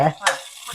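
Chopped onion with fenugreek and curry leaves is tossed into hot oil for a tempering, giving a short, close sizzle with two quick stirring bursts.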